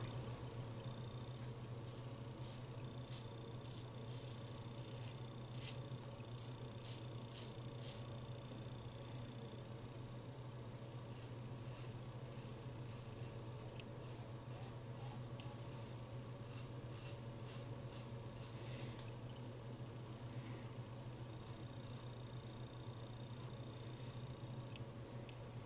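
Straight razor drawn against the grain across the side of a face during a traditional wet shave, a soft continuous scraping rub with faint rhythmic strokes over a steady low background hum, close and quiet, no talking.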